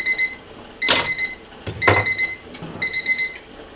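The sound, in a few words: kitchen timer going off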